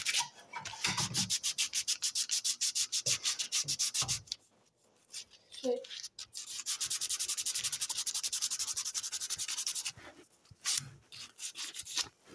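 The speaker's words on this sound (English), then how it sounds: "I'm going to get to sanding this." A wood carving is sanded by hand in long runs of rapid, gritty back-and-forth rubbing strokes, close and loud, broken by a few brief pauses.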